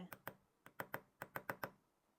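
A small hammer taps a pin into a watch strap, about nine light, sharp metallic taps in short uneven bursts, close and clear against a quiet background.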